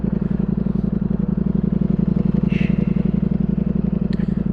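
A 2022 Ducati Streetfighter V4S engine while riding through New York City, a loud, steady low pulsing drone with rapid rhythmic firing throughout, heard up close with a few faint higher clicks over it.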